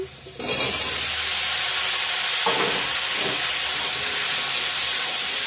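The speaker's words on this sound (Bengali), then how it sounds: "ভালো করে ভেজে নেব।" Onion, tomato and chopped vegetables fry in a pan, giving a steady, loud hiss and sizzle that carries on throughout with no talking.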